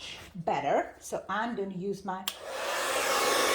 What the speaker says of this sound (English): hair dryer in hot setting.